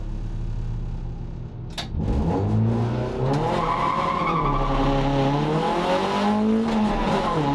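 A race car in a circuit race launches off the grid: after a steady idle drone, a sharp tyre chirp gives way to a loud engine climbing through the first two gear changes, with other cars roaring close by.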